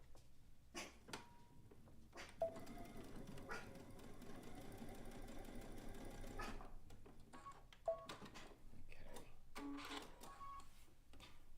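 Domestic sewing machine running in one steady burst of rapid stitching while a seam on a zig-zag quilt is touched up, bracketed by short starts and handling clicks before and after.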